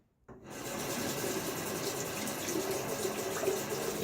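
Water streams steadily from a tap as soap is rinsed off a Blackland Dart safety razor, a broad continuous gush that starts abruptly after a brief quiet moment and holds close and even.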